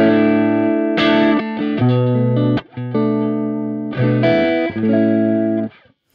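Clean electric guitar chords ring through a Flamma FS02 stereo reverb pedal on a small room preset with fast decay, several strummed chords each cut off quickly with a short, tight tail.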